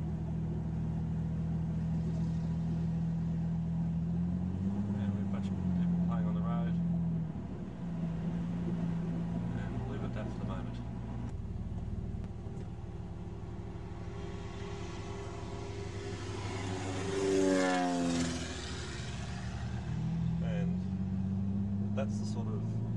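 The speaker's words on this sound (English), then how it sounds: "We've got a tourist bus there from Kingfisher Bay." Tourist bus from Kingfisher Bay on Fraser Island, its engine rumbling steadily throughout, with a rising drive-by swell near the end, under ongoing talk.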